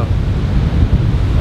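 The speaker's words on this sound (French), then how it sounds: "Il y a des vagues quand même là." Ocean surf rolls and breaks continuously at Mundaka, loud and close, mixed with strong wind buffeting the microphone.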